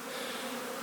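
Honey bees drone steadily inside a small wooden hive box during a late-season inspection in Newfoundland, a close, continuous buzzing hum with no talk.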